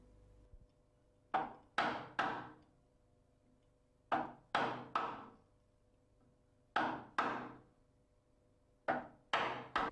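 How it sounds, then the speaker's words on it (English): A steel chisel is struck into timber to mark out a door recess, giving three groups of three sharp, close wooden knocks, each dying away quickly, with quiet pauses between the groups. "turn the chisel over and mark off small areas to be removed"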